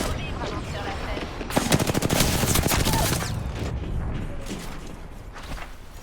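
Gunfire in the video game Apex Legends: rapid automatic bursts that build into a dense, loud volley, then trail off into scattered shots and game noise.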